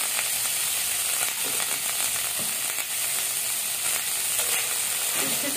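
Bitter gourd fries in a pan of oil with a pinch of salt and turmeric, giving a continuous close sizzle with faint stirring clicks throughout.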